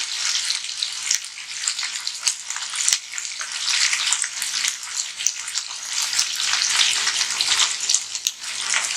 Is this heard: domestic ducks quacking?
no